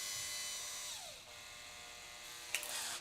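A small power drill whines while boring a 1/16 hole into a Hot Wheels die-cast toy car, its pitch sagging under load, then a short louder burst near the end before it stops.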